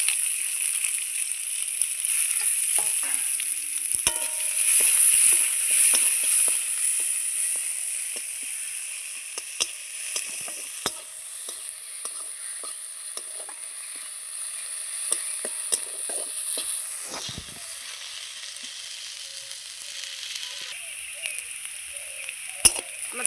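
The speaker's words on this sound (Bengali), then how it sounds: "আমার পেঁয়াজটা লাল লাল করে ভাজা হয়ে গেছে" Chopped small onion fries in oil with cumin, a continuous bright hiss that is loudest early and then settles, with scattered clicks and scrapes of stirring.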